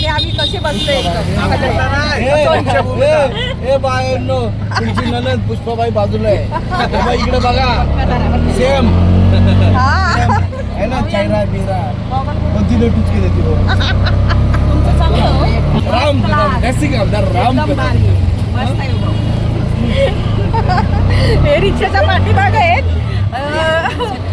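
Ride in an auto rickshaw heading to Nagpur: a steady low engine rumble and road noise continue throughout while several people chat over it.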